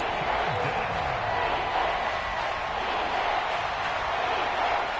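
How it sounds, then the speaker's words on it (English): A stadium crowd roars at Arrowhead in an American football video game, a constant loud wash of cheering with no breaks, while commentary voices speak faintly underneath. "The Arrowhead crowd in full roar"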